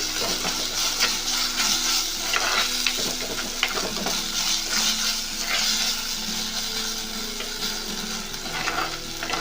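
Ginger garlic paste being stir-fried in a pan for squid curry, a steady close sizzle broken by scraping and stirring strokes that repeat all the way through, with no talk.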